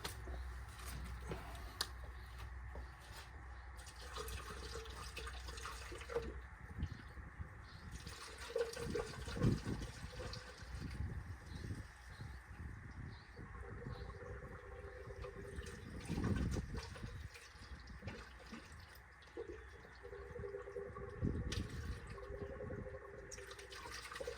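Coolant steadily poured into the radiator of a 426 HEMI Cuda during a flush, a faint continuous liquid gurgle and trickle with occasional louder glugs and no talk.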